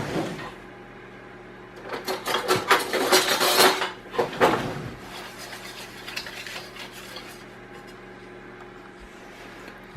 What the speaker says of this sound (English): We're going to add 1/4 cup of tapioca starch and then mix that together.